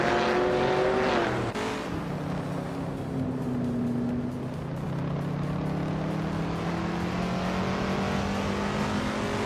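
Race cars roar through a video game race, a dense, continuous engine drone with pitch sweeps as cars shift and pass, loud and steady throughout with no voices.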